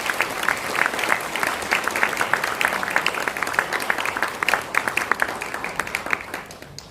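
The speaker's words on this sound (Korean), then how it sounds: "교우일동 박수 부탁드립니다." A church congregation applauds during an ordination and installation service, the clapping crisp and even, with individual claps standing out before it gradually thins toward the end.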